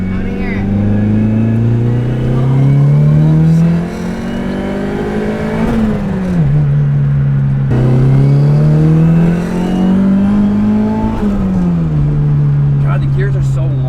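A car carrying three people accelerates hard with its engine note climbing steadily through two long gear pulls. A brief dip marks the shift between them. The engine is loud and close, and people talk over it.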